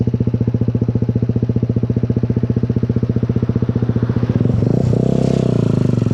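A Suzuki GN 125 single-cylinder motorcycle engine thumps loud and close while riding, a rapid even pulsing beat that swells and shifts pitch near the end as the throttle changes.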